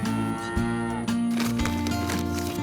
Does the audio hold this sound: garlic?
no